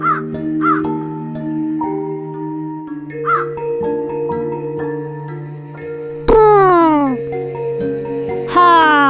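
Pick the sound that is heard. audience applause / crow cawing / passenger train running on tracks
crow cawing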